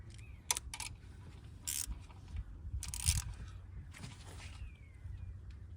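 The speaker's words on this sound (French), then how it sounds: "On va s'attaquer à ce boulon là. Alors c'est une douille de 10 qui est sous forme d'étoile." A 10 mm star-shaped socket works a bolt on a Bosch injector of a 2012 BMW X5 E70 with the N57 D30A diesel, giving several sharp, close metallic clicks and scrapes spread out over quiet workshop background.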